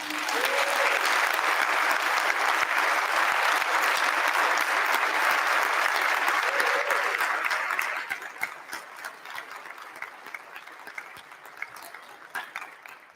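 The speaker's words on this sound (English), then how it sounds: "I will not leave this podium unless you join me in giving a round of applause to Rachel Goodrich for pulling all of this t" Sustained audience applause at a university's 196th commencement ceremony, a dense steady roar of many clapping hands for about eight seconds, then thinning to scattered claps as it dies away.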